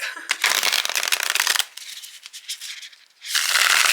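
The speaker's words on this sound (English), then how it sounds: "that shuffles pretty nicely" Tarot cards riffle-shuffled up close, two long crisp bursts of rapid flutter separated by quieter handling and tapping.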